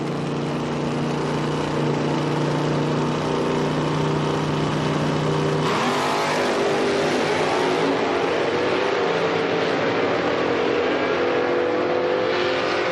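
A drag race launch with an '85 Camaro in one lane: a steady loud idle rumble gives way to a sudden roaring burst of revving engines that climbs in pitch as the cars pull away, continuing for several seconds.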